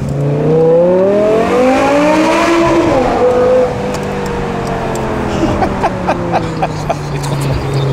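A sports car with an SMG gearbox accelerates hard, its engine note climbing loud and close through rising revs, then settling as the car eases off with lighter sounds trailing.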